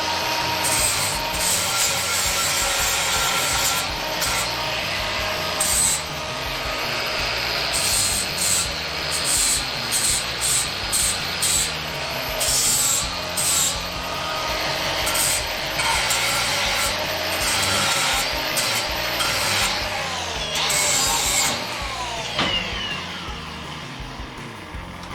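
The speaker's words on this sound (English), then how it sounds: "All right, flapper wheel on here." A flap disc sanding wheel grinds across an engine part on a 427 small-block Chevy, a loud, harsh, continuous abrasive hiss with bursts of pressure and pauses between passes, ending as the tool spins down.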